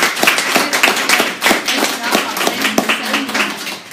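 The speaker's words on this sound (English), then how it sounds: "let's give one round of applause for" Audience applause at a chamber of commerce real estate seminar, a dense patter of many hands clapping steadily for several seconds with some voices mixed in.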